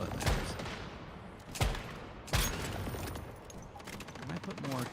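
Automated turrets firing in the survival game Once Human: a few sharp, widely spaced gunshot cracks, fairly faint, over a low background of game noise.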